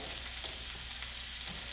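Thinly sliced onions sauté in hot coconut oil for a Kerala-style egg curry, giving a soft, steady sizzle with a few faint stirring clicks and no talk.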